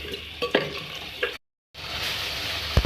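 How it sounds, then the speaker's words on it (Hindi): Fenugreek leaves being stirred into chicken and spinach in a pan, with clear scraping strokes over a steady sizzle, a brief silent break, then continuous frying hiss and a sharp clatter near the end. "ये डाल दिया मैंने और अब मैं इसको करूँगी मिक्स।"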